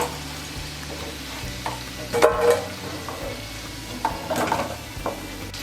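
Falafel frying in hot oil, a continuous sizzle with louder crackling bursts as pieces are moved or turned, close by, with kitchen clatter in the background.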